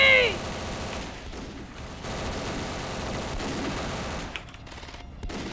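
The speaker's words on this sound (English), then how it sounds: "Snapple's got the sniper rifle" Rapid gunfire rattles almost without a break in a Roblox shooter, where a sniper rifle is in play, over a dense game soundscape with faint voices in the background.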